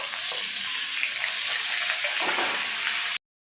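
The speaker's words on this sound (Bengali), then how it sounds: "এই যে আলু বেশ ভাজা হয়ে গেছে, এখন ডাঁটাগুলো দিয়ে দেওয়া হবে।" Vegetable stems go into a pan of frying potatoes for a fish curry, setting off a bright, steady hiss and sizzle with a few stirring scrapes, close and continuous before cutting off abruptly.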